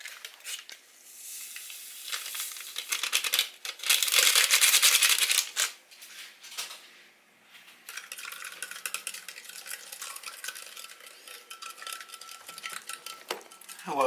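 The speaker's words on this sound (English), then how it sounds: "Who else uses a chopstick to stir their drinks?" A chopstick stirs a fizzy vitamin C drink in a glass, giving close, repeated clinking and swishing with a loud burst of effervescent fizz midway. No one speaks.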